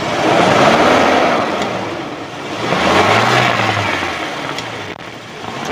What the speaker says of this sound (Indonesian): kita raungkan, kita blayer, itu suaranya mesinnya masih tetap normal